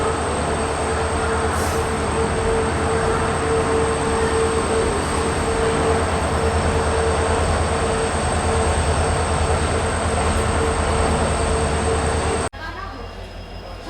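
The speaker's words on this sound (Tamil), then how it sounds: "நம்மளுடைய வண்டி இப்போ பார்த்தீங்கன்னா ஆன் டைமில் மைசூர் ஜங்ஷனுக்கு ரீச் ஆயிடுச்சுங்க" A passenger train arriving at Mysuru Junction rumbles loudly and steadily with a constant hum and faint squeal, ending abruptly as the noise drops to a quieter level.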